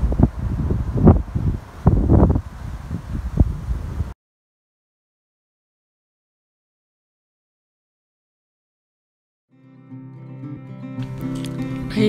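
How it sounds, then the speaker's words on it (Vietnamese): Wind buffets a microphone outdoors on a near-empty American street under curfew. It comes as loud, gusty low rumbles for a few seconds, then cuts to silence. "Gió."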